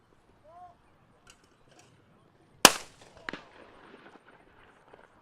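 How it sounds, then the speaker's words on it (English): Two shotgun shots at clay targets, one thrown from each launcher, at an outdoor clay-shooting Grand Prix: a loud sharp crack followed about half a second later by a quieter second report, with low background noise. "And now, last 2 shots. 1 for each launcher."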